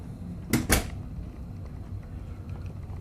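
A cabin door on the Carnival Vista cruise ship swings shut with two quick sharp clacks close together, followed by soft room ambience.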